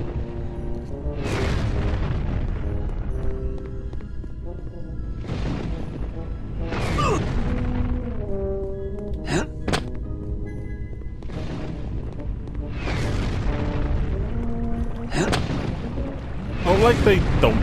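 Blasts and shots fired at droids in Star Wars Jedi Outcast come as several heavy booming bursts spaced a few seconds apart, loud and close, with talk mixed in.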